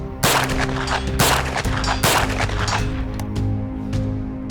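Jackal 9mm pistol shots fired at a steel plate roughly 150 to 170 yards downrange, a loud sharp report followed by a ringing metallic clang off the target, repeated a few times in quick succession outdoors.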